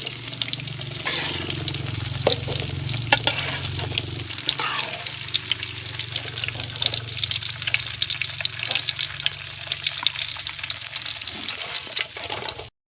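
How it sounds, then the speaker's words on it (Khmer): Tofu frying in hot oil until golden crackles and sizzles steadily, with occasional stirring clinks and bubbling close up and no talk. "យើងជៀនវារហូតតវាឡើងពណ៌អញ្ចឹងហើយវារឹងល្អ"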